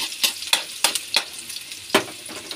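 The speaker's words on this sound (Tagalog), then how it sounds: "Haluin natin ang sibuyas." Sliced onions frying in a pan for adobong sitaw get stirred in a series of sharp scraping sizzles, about eight distinct strokes over a low background crackle.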